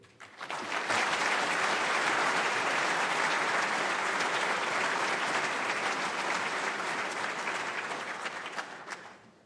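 A large audience at the 2025 NAE Annual Meeting applauds to welcome the NAE President, Tsu-Jae, with steady, full clapping that swells quickly, holds for several seconds and then tapers off.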